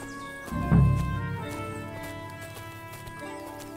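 A horse whinnies loudly in the video game Kingdom Come: Deliverance 2, followed by rhythmic hoof clip-clops that fade out over a few seconds.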